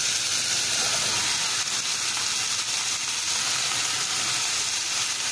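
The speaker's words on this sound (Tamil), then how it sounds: "நம்ம முள்ளங்கி நல்லா வதங்கணும்" Sliced radish sautés in a pan with an even, unbroken sizzle, loud and near, with a faint stir now and then and no talking.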